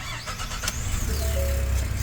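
A 2017 Ford F-150 EcoBoost truck, with an exhaust manifold leak and snapped bolts, cranks briefly and then settles into a steady, loud idle, close to the engine.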